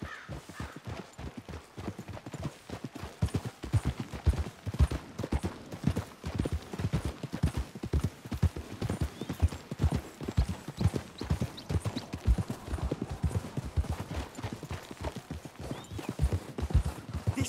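Horses trotting in Red Dead Redemption 2, a brisk, continuous clip-clop of hooves on the ground, close and steady throughout, with no talk over it.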